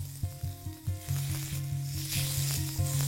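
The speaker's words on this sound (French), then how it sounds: "N'appuyez pas trop sur vos steaks pour les laisser cuire tranquillement." Steaks sizzle in browned butter in a pan, a loud, steady frying hiss with rhythmic low thumps and scraping at first, settling into continuous close sizzling.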